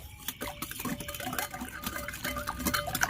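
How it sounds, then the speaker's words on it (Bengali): A hand whisk mixes rice flour into steamed sponge cake batter, making continuous quick rhythmic taps and scrapes against the bowl, with wet stirring sounds at close range. "চালের গুঁড়োটা দেওয়ার পরে আমি হ্যান্ড উইচ দিয়ে খুব ভালো করে মিশিয়ে নিচ্ছি"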